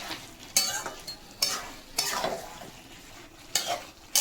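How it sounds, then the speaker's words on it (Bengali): Tomato and meat sauté in a hot pan, with soft sizzling cut by repeated scraping strokes of a spoon stirring at close range. "আমি একটা টমেটো দিয়ে দিলাম এবারে টমেটো থেকে টমেটোটা কষবো"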